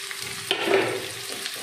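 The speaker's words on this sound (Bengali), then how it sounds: "পেঁয়াজটা একটু হাই ফ্লেমেই ভাজতে হলো" Chopped onions fry over a high flame in a pan, with a steady sizzle and a brief surge of louder crackling as they are stirred; no one speaks.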